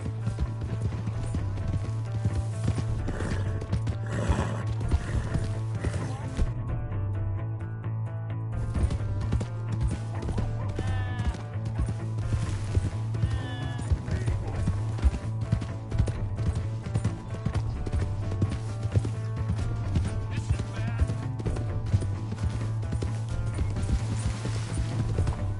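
Hooves clip-clop in a steady, rapid rhythm as a horse gallops in Red Dead Redemption 2, running continuously and fairly close over a low droning game soundscape with scattered mechanical clinks.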